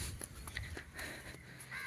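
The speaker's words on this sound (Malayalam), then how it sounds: "കാക്കച്ചേട്ടാ" A crow cawing beside Vembanad Lake at Udayamperoor, a few short calls at moderate distance in quiet outdoor surroundings.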